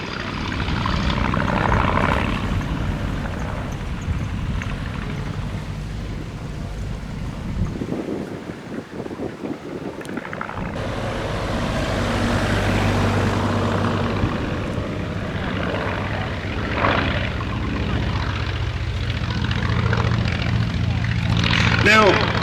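A Polikarpov Po-2 propeller biplane flies at an air show, its engine drone rising and falling as it passes, under steady wind buffeting and a commentator talking over the sound.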